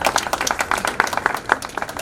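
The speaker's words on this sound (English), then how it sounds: "Round of applause for Dr. Purcell." Audience applause for a board member at a health equity foundation open house: a small crowd clapping steadily, crisp individual claps close by, lasting about two seconds.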